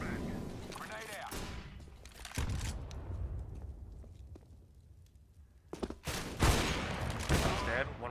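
Counter-Strike firefight on the de_bailout map: sharp bursts of gunfire with heavy thuds, a quieter stretch in the middle, then another loud volley of shots close by.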